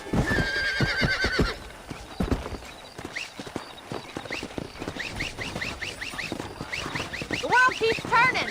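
In a Western ranch video game, a pack of wild horses whinnies repeatedly in sharp, rising calls over steady clip-clopping hooves, with a brief burst of other voices and tones at the start.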